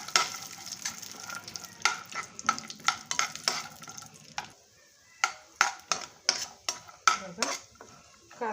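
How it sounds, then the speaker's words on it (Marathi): Cashews fry quickly in a pan for multigrain laddoos, a light sizzle broken by frequent sharp metal spoon clinks and scrapes, the frying hiss fading midway while the clattering continues. "काजू अगदी पटकन तळले जातात।"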